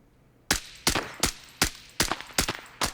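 VSS Vintorez suppressed rifle firing subsonic rounds in single-fire mode in Arena Breakout Infinite: seven sharp, evenly spaced shots, each a crisp muffled crack with a short tail, close and alone.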